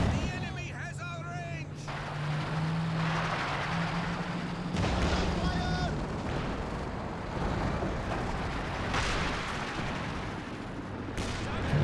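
Soviet Guards rifles opening fire on a King Tiger heavy tank in the strategy game Company of Heroes 2, a dense battlefield mix of gunshots and heavy booms under steady rumble, with a voice talking over it.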